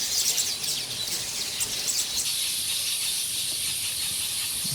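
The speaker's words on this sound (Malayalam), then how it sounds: "കിളിയുടെ കരച്ചിൽ കേൾക്കുന്നുണ്ടോ?" Yellow birds call around their nests in South Africa, a busy stream of high, thin chirps over a steady hiss of the surroundings, continuous and with no talking.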